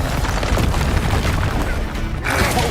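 A Confringo spell explosion in Hogwarts Legacy: a loud, sustained fiery boom with crashing bursts, close and dense throughout, with no talk over it.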